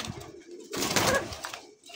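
A Koka pigeon gives a short, soft cooing call close by, a single brief burst of throaty notes in an otherwise quiet moment.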